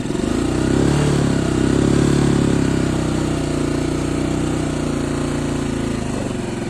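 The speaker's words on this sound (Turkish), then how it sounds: "Motorla şöyle ağır ağır gitsem acaba bir deneyeceğim." Motorcycle engine ridden slowly in first gear, a steady loud low rumble with a rough, throbbing beat that holds close and constant throughout, no talking over it.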